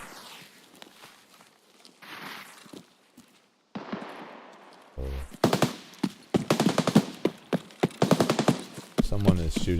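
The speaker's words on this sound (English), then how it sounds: "Someone is shooting back there." Gunfire in the video game Escape From Tarkov: faint distant shots early on, then loud rapid bursts of automatic fire close by, with footsteps and some talk in between.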